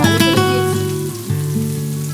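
Onions and green chilli fry in hot oil as the base for a rui fish curry with tomato, a steady close sizzle running under a constant tonal hum.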